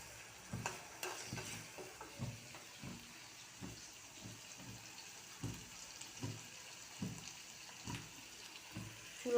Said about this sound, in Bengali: মিষ্টি কুমড়া ভাজি করব